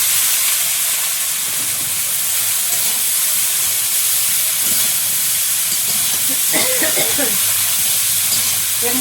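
Prawns with turmeric and salt, then Malabar spinach seeds, frying in hot oil in a home kitchen: a steady, dense hiss and sizzle that runs throughout, with a brief stretch of voices and stirring near the end.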